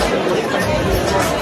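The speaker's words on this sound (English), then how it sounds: "Look at this crowd." Dense crowd chatter fills a packed audience hall at the Brea Improv comedy club before an Anjelah Johnson show, a steady babble of many overlapping voices with no single speaker standing out.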